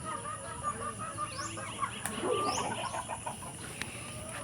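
Breeder chickens, including young males, cluck and chatter on a rural farm, with low continuous murmuring from the flock and a few sharper calls. Scattered bumps and faint background noise sit around them.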